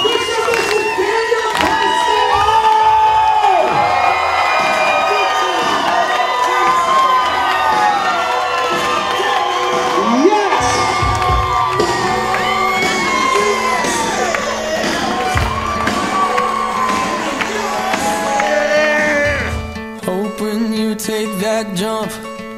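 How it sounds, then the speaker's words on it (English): Wedding guests cheer and shout for a newly married bride and groom, a loud, sustained crowd roar with whoops and raised voices over music, thinning near the end. "A thunderous round of applause for our new bride and groom"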